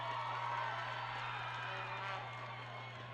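Trinity home crowd at a high school football playoff game roars in a steady, distant wash of cheering that fades slightly toward the end, with a commentator's voice faintly present.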